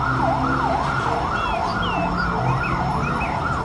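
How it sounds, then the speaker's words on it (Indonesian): A toy fire truck siren wails in a fast, repeating up-and-down electronic tone with chirpy beeps, loud and close. "kalau yang ini mobil pemadam kebakaran."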